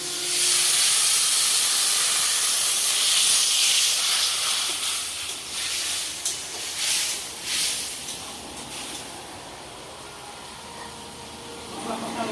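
Steam hisses and sizzles in a frying pan after water is poured over frying ginger paste, chili powder and turmeric, a loud, steady hiss that eases and flickers toward the end.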